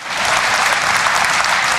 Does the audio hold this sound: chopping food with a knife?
no